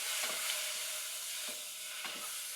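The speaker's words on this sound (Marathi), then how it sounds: "टोमॅटो घालूया आणि आपण आता हे मिक्स करून घेऊया." Tomatoes with turmeric, red chili and coriander powder are stirred in a pan over a steady soft sizzle, with a few quiet spoon scrapes spaced through it, close but low in volume.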